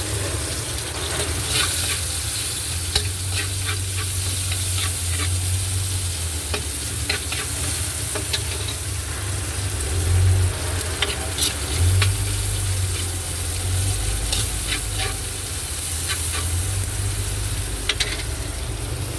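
Onion sautés in a hot pan, a continuous close sizzle over a low hum, with repeated sharp scrapes and clicks of a utensil stirring at an irregular pace and no talking.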